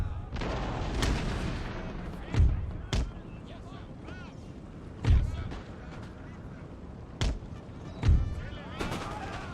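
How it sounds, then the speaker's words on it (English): Musket volleys in an Empire: Total War battle crack out as about five sharp bursts spread across the scene, over constant battlefield din and talk. "Those volleys are so good."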